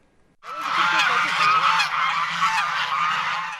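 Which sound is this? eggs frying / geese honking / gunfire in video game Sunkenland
geese honking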